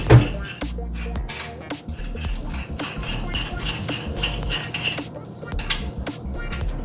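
A spoon muddles ingredients in a bowl with scattered clinks, taps and scrapes of metal on dish at close range, irregular and fairly light.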